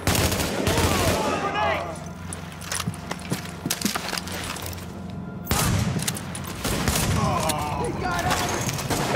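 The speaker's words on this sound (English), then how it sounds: "No, it's just shooting." Gunfire in the video game The Division: rapid bursts of automatic shots, close and loud, in two main volleys separated by a quieter stretch of scattered single shots and game sounds.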